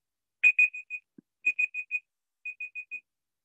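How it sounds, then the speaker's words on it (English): An alarm clock beeps in three bursts of four sharp, high electronic tones, with short pauses between bursts, loud and close in an otherwise quiet room. "That's my alarm telling me to hurry up."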